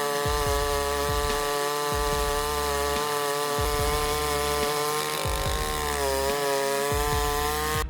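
A STIHL 090 AV chainsaw roars at full throttle, its loud steady buzz dipping rhythmically as the chain bites through a 47-inch tree trunk, with no voices.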